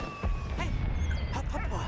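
A dog whines and whimpers in the World War I video game Valiant Hearts, giving a few short, high-pitched cries over a steady bed of game background sound.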